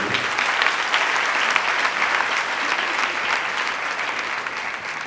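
Congregation clapping for the men seated in a Catholic parish church during the Solemnity of Saint Joseph, a steady, dense wash of applause that fills the whole span at even loudness, with faint murmuring underneath.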